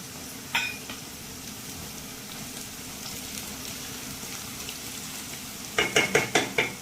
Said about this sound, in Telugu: దీనిలో ఒక రెబ్బ కరివేపాకు వేసుకుందాం.